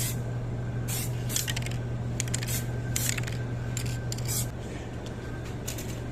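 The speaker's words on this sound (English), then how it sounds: "Let's see how this one sprays." An aerosol spray paint can hisses in repeated short bursts during a small car paint repair, close and loud over a steady background hum.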